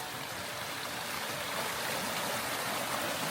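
A mountain stream in Norway flows and rushes steadily, a close, continuous watery wash without pauses.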